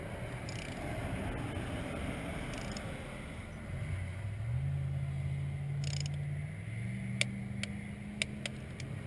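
Spark plugs on a 1994-2002 Saab 9-3 turbo are tightened with an inch-pound torque wrench set to 216 inch-pounds; a few sharp, close clicks come near the end over a steady low hum.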